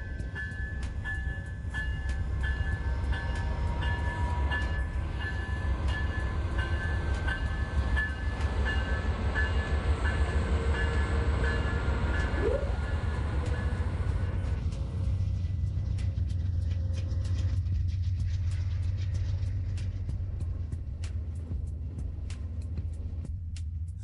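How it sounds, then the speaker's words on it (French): A night passenger train rolls along, its lead locomotive sounding a horn with sustained tones over a steady, loud low rumble of wheels and cars that continues throughout with no talk. "Le klaxon retentit bientôt depuis la locomotive de tête et le train 19 continue sa route dans la nuit."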